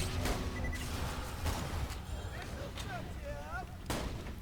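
Several separate gunshots from a weapon in Borderlands 2, spaced punchy blasts at moderate loudness mixed with game sound effects and background noise.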